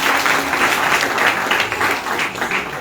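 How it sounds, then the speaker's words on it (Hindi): A crowd applauds at a religious gathering, a dense, steady patter of many hands clapping close by for a few seconds. "एक बार उनके लिए तालियां"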